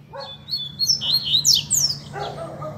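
A double-collared seedeater (coleiro) sings loud and close: a quick run of bright, high chirps and sliding whistled notes, then a shorter burst near the end, over a low steady background hum.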